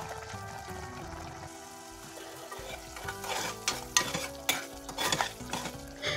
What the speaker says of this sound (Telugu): పచ్చివాసన పోయే వరకు ఇలాగ మధ్య మధ్యలో మూతను తీసి కలుపుతూనే ఉండాలి.